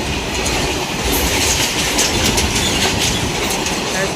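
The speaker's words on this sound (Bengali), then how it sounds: "ফাইনালি গেল গা, ট্রেন দেখাইলাম আপনাকেও, ট্রেন তো দেখলেনি, চলে গেল।" Railway wagons thunder by at close range, a loud continuous rush with rhythmic clickety-clack of wheels over rail joints and a faint squeal, no talking over it.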